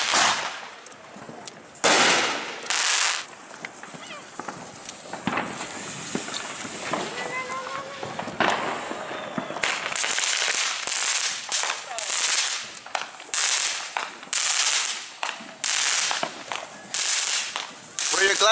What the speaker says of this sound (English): there is fireworks going on all across town. You can hear it in the background.